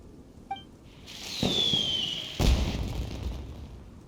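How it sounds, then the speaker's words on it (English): A faint chime, then a whistling rise and two muffled booms of fireworks with crackling tails, sounding distant, in a video game. "Did you hear that explosion? Maybe it was fireworks."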